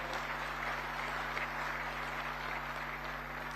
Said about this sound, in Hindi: आपको फिर से ताली बजानी पड़ेगी।